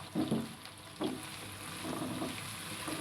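Potatoes for a jalfrezi are briefly stir-fried in a pan, a soft close sizzle with a few light stirring bumps and scrapes over a steady background hiss.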